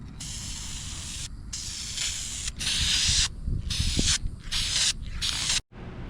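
Spray paint hissing in long bursts with short pauses onto the welds of a custom Cherry Bomb exhaust on a 2006 Acura TL, loud and close, with no talking.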